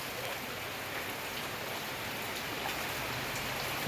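Constant rain hisses and patters evenly, a soft, dense wash of falling drops with no voices.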